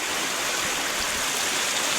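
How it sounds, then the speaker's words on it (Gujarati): Floodwater after hours of heavy rain rushes through a village road in Khamidana, a loud, continuous broadband roar of fast-moving water heard close with no pauses. "આ પાણી તો જો તમે જોરદાર પાણી આવી ગયું આજે ખમીદાણા"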